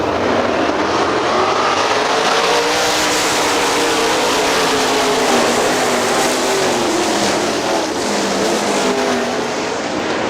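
Sprint cars in a GLOSS Sprints race at Hartford Speedway Park in 2003, several engines roaring together in a loud, continuous drone with rising and falling pitch as the cars circle the track.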